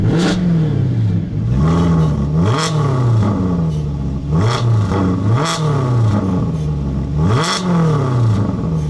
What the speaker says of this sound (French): Ah oui, on entend le bruit métallique des valves.